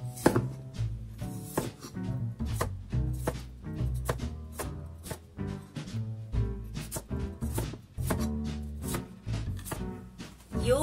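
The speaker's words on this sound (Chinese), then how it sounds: "土豆切成小小的滚刀块" Potatoes diced into small rolling-cut chunks with a knife for Japanese curry chicken, giving a steady run of sharp, close knife chops against the board, evenly spaced and loud with no talking.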